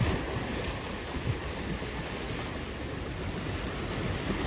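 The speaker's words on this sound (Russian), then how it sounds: "волны плещутся." Sea waves splashing on the Odessa shore as a steady, close wash of surf noise with gentle rolling surges throughout, no voices.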